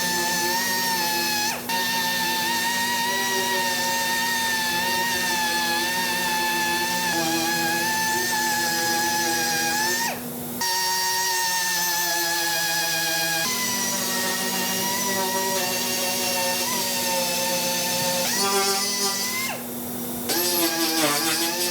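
A power tool whirs steadily at close range over a panel of a Ford Falcon XE being prepared for spraying, a sustained high whine with brief dips and shifts in pitch as it works the surface.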